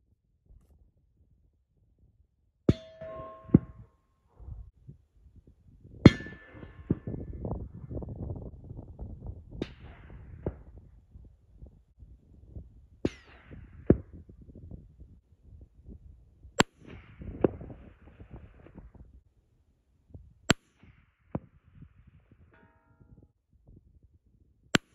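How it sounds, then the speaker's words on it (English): Rifle shots ring out one at a time at irregular intervals, some with a muffled suppressed report and others louder and sharper unsuppressed, each cracking briefly against near-silence with faint shuffling between. "So that'll give you a feel for suppressed and unsuppressed."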